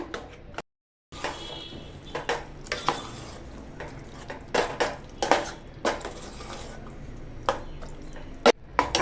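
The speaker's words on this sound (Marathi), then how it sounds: "आता आपण हे व्यवस्थित असं मिक्स करून घेऊया" A spoon scrapes and clinks around a pot of taro leaf curry in repeated stirring strokes, irregular and close, with no talking.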